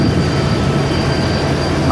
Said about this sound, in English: there is a southbound sneaking through right now